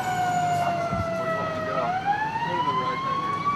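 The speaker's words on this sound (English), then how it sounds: "Captain Dom Jewell and his crew on Engine 4 arrive on scene as first in." A fire engine siren from Engine 4 wails as the truck arrives first on scene at a house fire in Washington DC, one long sweeping tone that dips and then rises, loud and near with no talk.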